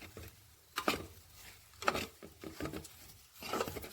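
Okra pieces frying slowly in a pan over a medium flame, soft sizzling with a few louder stirring scrapes spaced about a second apart, fairly quiet and close with no voices.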